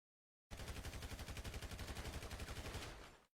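Rapid automatic gunfire in the video game GTA V, an unbroken burst of evenly spaced shots lasting nearly three seconds, loud and close, then cutting off abruptly.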